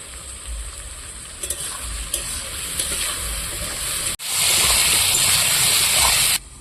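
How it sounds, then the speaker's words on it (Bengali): Potatoes frying in a pan with raw tomato, a quiet crackle and a few stirring clicks, then a sudden loud, steady hiss of sizzling as the tomato hits the hot oil, heard close and alone. "সেই কাঁচা টমেটোটা এখন আলুর সঙ্গে দিয়ে দেবো একসঙ্গে ভাজা ভাজা হয়ে যাবে"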